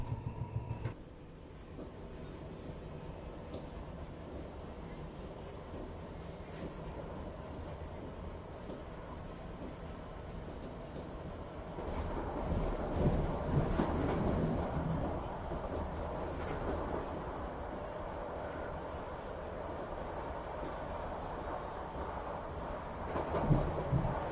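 A train rumbles steadily along the rails, a low continuous roll with faint clatter that swells louder partway through.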